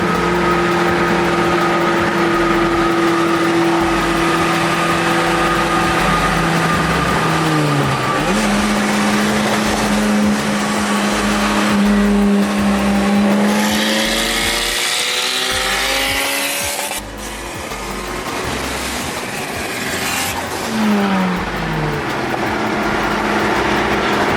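Race cars, including a Civic and a Mustang on full bolt-on slicks, roar loudly and steadily, with engines revving and rising in pitch through the gears and tires squealing as they accelerate. No one speaks.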